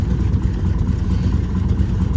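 A Cessna 195 aircraft engine runs at low RPM just after start-up, giving a steady, close, throbbing mechanical rumble with no voices.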